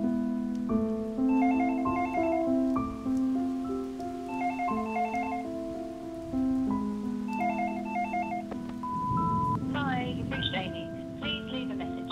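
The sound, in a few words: telephone ringing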